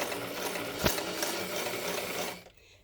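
A sewing machine runs steadily as it back stitches fabric for mask ear savers, a close mechanical whir with a single sharp clack partway through, stopping abruptly near the end.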